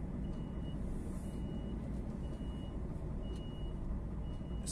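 A DAF XF 480 truck pulling out of a gas station in Prata, MG, with a steady low engine rumble throughout and faint intermittent reversing beeps in the background.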